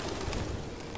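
Pigeons coo in the video game Detroit: Become Human, a brief soft burst of cooing over a steady, noisy ambient bed, with no talking.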